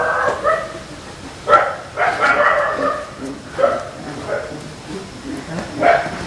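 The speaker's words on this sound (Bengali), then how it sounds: "কতগুলো কুকুর ডাকতেছে শুনতে" Several dogs bark outdoors in a series of sharp yelps and barks, repeating irregularly at mid distance.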